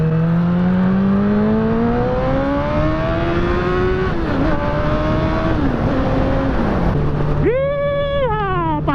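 Motorcycle engine revving on a blade sportbike, the pitch climbing steadily, dipping and wavering, then one sharp throttle blip near the end that jumps and falls back to idle; loud and close, with no one talking.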